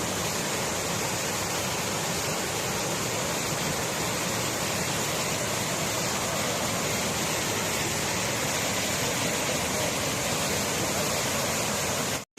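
Tat Kuang Si waterfall in Luang Prabang, Laos, heard from close by as a loud, unbroken roar of falling water that fills the whole stretch evenly, with no voices.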